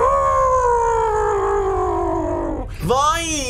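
Animated cartoon sharks howling in a long, loud, wavering wail that slowly falls in pitch, breaks off, then rises into a second, rougher howl.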